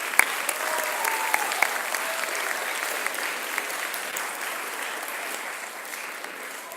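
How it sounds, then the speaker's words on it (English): An audience at a school district academic hall of fame program claps in steady, dense applause, with a few sharper claps on top, lasting the whole stretch. "Let's give these folks one more round of applause"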